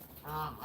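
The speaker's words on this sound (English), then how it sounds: "He's still a baby, as you guys can hear by his voice." A young Canada goose gives a short, hoarse, wavering call at close range, a single brief honking note.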